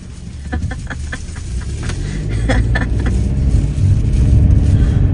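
A car rolls along the road as heard from inside, a steady low engine and tire rumble that builds slightly, with a few light clicks and rattles near the start.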